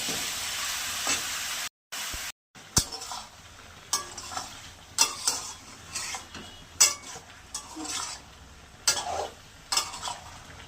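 Nigella seeds sizzle in hot oil while a spoon or spatula scrapes and stirs the pan, ahead of chicken for a dry, waterless chicken curry; there are repeated clattering stirs over a steady frying hiss, with two brief dropouts near the start.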